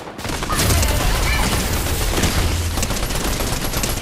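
Rapid pistol gunfire from a video game bomb match rings out in a dense, continuous burst of overlapping shots, loud and close, with no talking.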